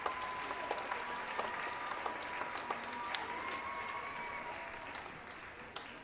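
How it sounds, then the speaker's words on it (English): Audience at a 5th and 6th grade spring band concert applauding high school helpers, sustained steady clapping from a crowd in a hall, moderately distant, with faint chatter underneath. "Nice round of applause for these guys."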